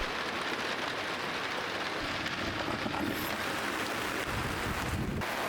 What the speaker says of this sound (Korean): 빗소리 들리시나요?